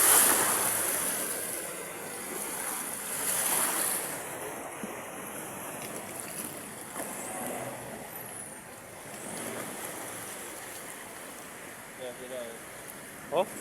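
Strong floodwater rushes through a flooded street in Valenzuela City, Metro Manila, as a loud, steady broadband roar like heavy surf, with wind buffeting the microphone and faint voices at the edges.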